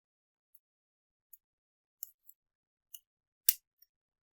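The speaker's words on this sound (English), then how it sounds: "I'm going to cut the tape." Tape being cut during a tripod twist-lock repair: a handful of faint, quiet snips and clicks, sparse and irregular, ending in one brighter crisp snip, with silence around them and no voices.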